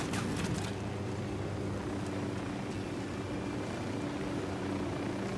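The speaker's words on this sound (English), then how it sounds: "Chopper, hit the dirt." Helicopter in the video game Ghost Recon Wildlands, a steady low rotor drone that stays loud and constant throughout, with a brief burst of higher noise at the start.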